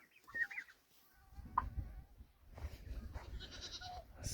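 Village chickens and roosters, many of them with red combs, call in short bursts and clucks among goats and other farm animals in a rural yard. The birds are moderately close but fairly quiet, with no talk.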